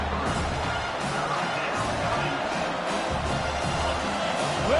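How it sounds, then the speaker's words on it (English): Stadium crowd noise in the NCAA football video game, a low, continuous rumbling roar of a packed stadium, steady and moderately loud, with no clear voices on top. "Listen to this crowd just shaking the girders of this place, trying to help their defense."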